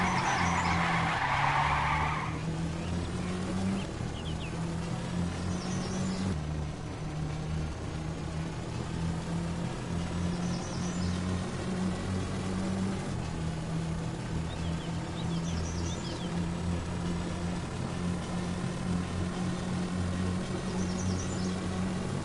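Cars racing in the Gran Turismo video game, drag racing, with engines droning steadily and tires squealing in long skids, loud and continuous throughout with no voices.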